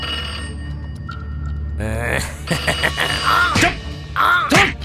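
A telephone rings in repeated bursts while people talk and exclaim over it, with a steady hum underneath.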